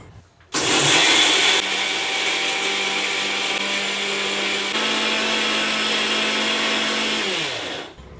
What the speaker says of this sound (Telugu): మనం వేసుకున్న ఇంగ్రీడియంట్స్ అన్నీ మెత్తగా పౌడర్ లాగా మిక్సీ పట్టుకోవాలి